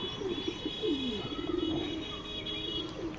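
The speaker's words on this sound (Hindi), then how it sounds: "और ये हमारे कबूतर हैं," Domestic pigeons coo in a soft, repeated rolling rhythm close by, several birds overlapping steadily with no talk.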